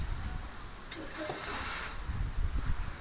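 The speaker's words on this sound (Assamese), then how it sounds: "ইমান ধুনীয়া বতাহ আহিছে" Steady wind rushing and buffeting against the microphone, a constant broadband roar with gusts swelling toward the end.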